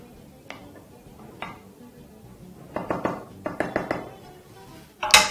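A spoon presses and levels cooked pasta for mac and cheese in a bowl, giving a few soft taps and then a cluster of clinks and scrapes against the bowl, ending in one louder clatter.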